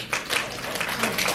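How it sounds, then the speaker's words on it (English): Audience applause at a community concert in a retirement home, greeting young piano students before their recital; a short, steady burst of clapping from a small crowd. "Let's give them a welcome with an applause."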